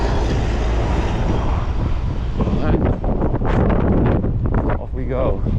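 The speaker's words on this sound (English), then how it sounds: "There's also strong headwind, so I have my work cut out for me today." Strong headwind buffeting the microphone while roller skating along city sidewalks in Montevideo, Uruguay, a loud continuous rumbling roar, followed by a person talking under the ongoing wind.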